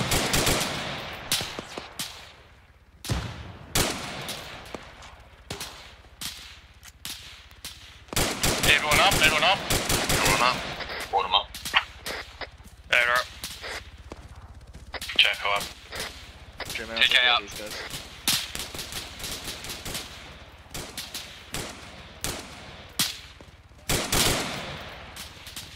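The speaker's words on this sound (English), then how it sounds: "I'm getting sniped from the west on the roof." Bursts of automatic and single gunfire in the military shooter game Arma 3 crackle in clusters across a long stretch, some close and loud, others more distant, with radio-style voices talking between shots.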